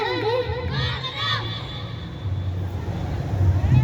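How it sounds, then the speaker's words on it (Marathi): A crowd at the Agri Koli festival in Nerul cheers and shouts for students of a dance class, children's voices prominent, with a steady low hum of music or crowd noise building louder toward the end. "आणि यांचा डान्स तुम्हाला आवडला असेल तर एकदा जोरदार टाळ्या त्यांच्यासाठी होऊ द्या"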